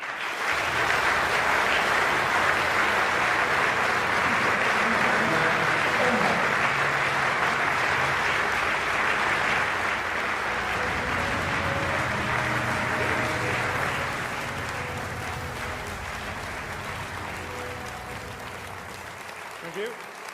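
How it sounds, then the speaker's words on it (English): Loud, sustained audience applause at a Conservative Party manifesto launch, a dense wash of clapping from a large crowd that holds steady for about fifteen seconds before slowly tapering. "Ladies and gentlemen, please give your warmest welcome to Ben Houghton."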